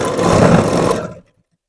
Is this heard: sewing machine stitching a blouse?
yes